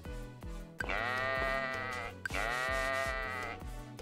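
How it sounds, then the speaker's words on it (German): A sheep in the farming video game Story of Seasons gives two long, quavering bleats in quick succession, close and clear, with no talk over them. "Hier unser Afro-Schaf."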